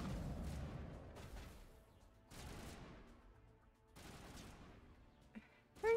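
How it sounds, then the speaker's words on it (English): Gunfire from the video game Mass Effect, several bursts of rapid weapon fire in quick succession with brief gaps between volleys, moderately loud and near, with a short voice at the end. "Who are you shooting at now?"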